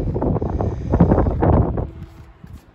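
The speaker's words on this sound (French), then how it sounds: "Seulement il y a pas mal de vent." Strong gusty wind buffeting the microphone outdoors at a Christmas spot, a dense low rumble that swells and dips for most of the clip before easing off near the end.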